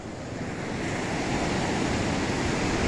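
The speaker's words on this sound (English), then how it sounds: "You can see the clean beach." Waves wash onto a clean beach in South Goa as a continuous, loud, broadband roar of surf, steady and without any voices.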